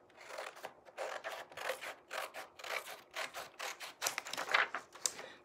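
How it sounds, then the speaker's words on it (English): Scissors cutting through vintage sheet music paper, a quick run of close, crisp snips and rustling strokes in a steady rhythm, with no voices. "I'm just gonna trim off a little bit here at the bottom"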